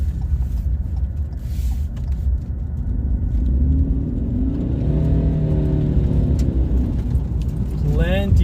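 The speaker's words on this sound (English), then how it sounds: "the front wheel drive hybrid give us plenty of acceleration" A Ford Maverick front-wheel-drive hybrid pulls away with a rising engine whir over road rumble, heard from inside the cabin, steady and fairly loud.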